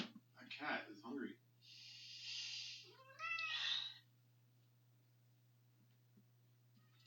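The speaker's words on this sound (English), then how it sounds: "My cat is hungry." A hungry house cat meows several times, some calls long and drawn out with rising and falling pitch, close by in a quiet indoor room over a low steady hum.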